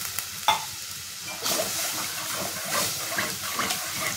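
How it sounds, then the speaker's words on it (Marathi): Water is poured into a besan and curd kadhi mixture with turmeric and stirred, giving close scraping swirls and soft sloshing, with a brief splash near the start. "आता ह्याच्यामध्ये आपण पाणी टाकून घ्यायचे"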